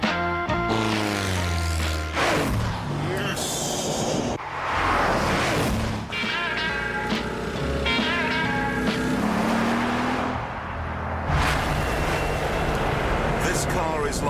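A Bugatti Veyron sports car drives with its engine rising and falling through gear changes under music, while a voice speaks over the driving sound.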